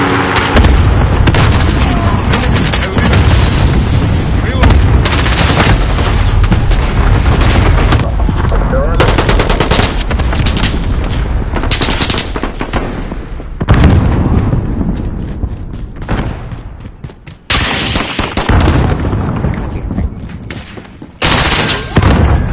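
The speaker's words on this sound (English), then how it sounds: "Allied cluster strike inbound." Cluster strike explosions in the Call of Duty video game, dense loud booms and blasts mixed with gunfire, rolling continuously at close range with in-game voices under the din.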